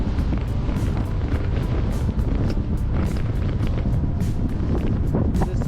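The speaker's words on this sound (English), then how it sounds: "Pretty windy up here." Strong wind roars and buffets steadily on an open mountain road, close and loud, with gusty rumbling across the microphone throughout.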